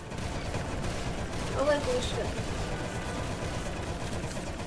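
Gunfire in the Roblox shooter Arsenal, a busy, dense run of game shots layered over constant background noise with a slightly louder burst near the middle, fairly close and steady throughout.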